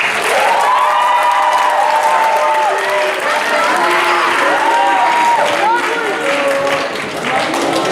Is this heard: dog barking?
no